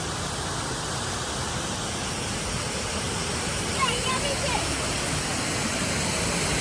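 A waterfall at Bhandardhara in Maharashtra pours in a loud, steady, broadband roar that fills the whole stretch without letting up, with a faint voice briefly audible under the rush.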